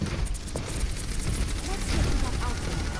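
Bastion's turret fires in an Overwatch match as rapid, rattling gunfire amid busy game effects, with players talking over it.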